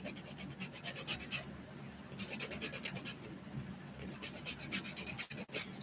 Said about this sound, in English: I'm also filing to level the acrylic back out too